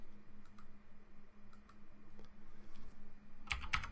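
Someone types a password on a computer keyboard: faint, scattered key clicks in a quiet room, ending in a quick cluster of sharper taps.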